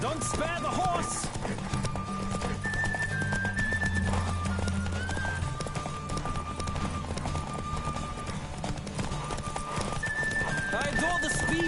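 Horse hooves clip-clop at a gallop in The Witcher 3: Wild Hunt, a steady close rhythm with occasional whinnies over a continuous bed of game music, and a voice talks at times.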